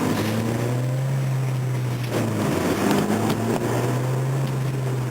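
Hyundai Genesis 2.0T with factory air box, filter and intake silencer accelerating in first gear, a steady droning engine note rising slightly in pitch with a brief dip midway, close and continuous, no talking.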